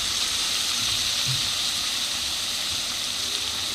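Methi and radish leaves with chopped radish hit a hot kadhai, giving a steady broad hiss and sizzle that holds at an even level throughout, with no voices.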